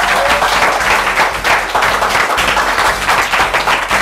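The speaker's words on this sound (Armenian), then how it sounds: "Ձեր ծափահարությունները։" Audience applauding a choir's solo singer, a dense, steady burst of many hands clapping at close range throughout, with no talk over it.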